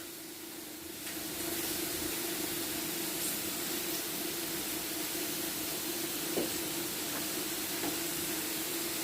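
Shrimp searing in a hot pan while being flipped over one by one, a steady broad sizzling hiss that rises after the first second and holds evenly, with faint clinks and no talk.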